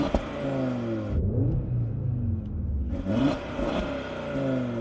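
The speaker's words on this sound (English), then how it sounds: "Let's have a listen to the Audi because that 5-cylinder is sweet." An Audi five-cylinder engine revs up and down in a couple of quick throttle blips against a soft limiter, its tone rising and falling with a deep rumble, fairly close.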